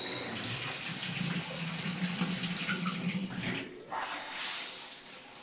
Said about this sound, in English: we're going to open the water.